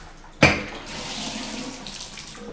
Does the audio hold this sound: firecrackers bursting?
no